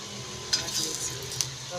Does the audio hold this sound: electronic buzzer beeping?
no